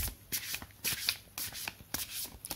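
Tarot cards being shuffled by hand in quick riffling bursts, several distinct shuffles with short pauses between them, close and clear with no talking.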